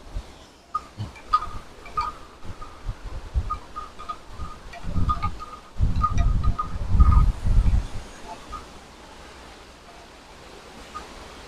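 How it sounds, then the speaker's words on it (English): Strong wind blowing outdoors on a stormy day in Cornwall, a steady broadband rush that swells into louder, heavier gusts midway before easing back, with no voices. "Listen to that wind."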